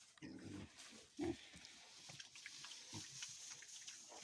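Quiet wet smacking and snuffling of pigs eating in pens, with a few louder grunts in short bursts over a faint watery background.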